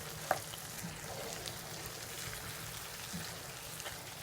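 Peppers and spices for a Pakistani vegetarian shimla mirch dish sauté gently over low heat in a pan, giving a faint, steady sizzle with a soft click or two near the start.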